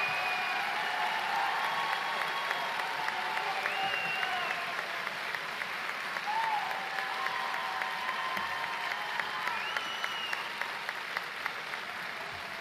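Sustained audience applause at a law school commencement ceremony honoring taxation degree graduates, steady and dense throughout with a few faint cheers riding on top.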